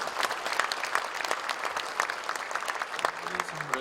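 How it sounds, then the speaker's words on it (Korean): Congregation applause at a Korean holiness church ordination ceremony, brisk crowded clapping with sharp individual claps standing out, loud and steady, with a brief voice near the end. "그럼 박수로"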